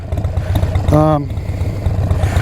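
A 2020 Harley-Davidson Iron 1200 idles through aftermarket exhaust pipes, a steady, deep, lumpy low rumble that runs throughout, with a brief voice-like tone rising over it near the middle.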